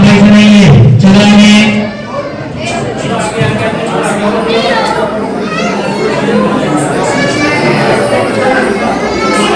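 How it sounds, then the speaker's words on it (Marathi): A large crowd at a busy tourist viewpoint in Mahabaleshwar fills the air with dense, continuous chatter and babble, with a nearby voice talking loudly at the start. "खूप जास्त गर्दी आहे गाईज, खूप जास्त."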